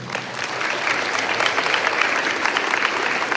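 Steady clapping from an audience at an elementary school Veterans Day assembly, welcoming a retired Army sergeant first class; dense, even applause throughout with no pauses.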